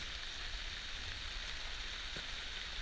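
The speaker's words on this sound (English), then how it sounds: "Just started raining." Steady rain pattering on a sailboat with a Bimini and dodger, a continuous even hiss of drops close by with no one talking.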